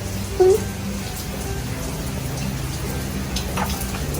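Steady rain patters softly in the background at a beach lodging in Pranburi, Thailand, a continuous light hiss with an occasional louder drip.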